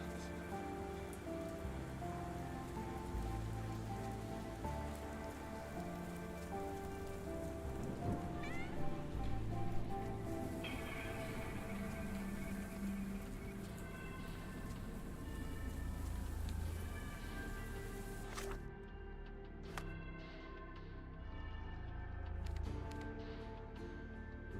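Steady rain pours onto surfaces in the video game Sherlock Holmes The Awakened, a dense continuous patter close by under music-like tones, with a cat meowing and faint distant thunder.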